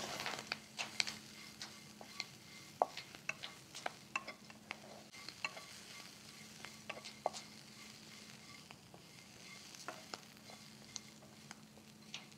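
Quiet sizzling and stirring of ponnanganni greens in a pan over moderate heat, with frequent light scrapes and taps of a utensil against the pan over a low steady hiss.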